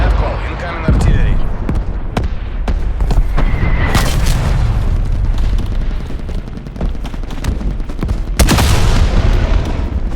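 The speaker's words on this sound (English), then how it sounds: "Artillery targeting detected. Net call, incoming artillery." An incoming artillery strike in Call of Duty Cold War lands as repeated heavy booms and sharp blasts over a constant loud battle din, with a radio voice talking over it.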